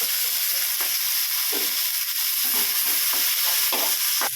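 Onions and tomatoes sauté in a pan for a mango and drumstick kara kuzhambu: a constant loud sizzle broken by regular scraping strokes of a spoon against the pan.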